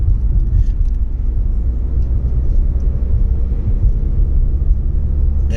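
A truck passes close by on the road, producing a loud, steady, low rumbling roar that holds throughout with little change, heard alone without talk.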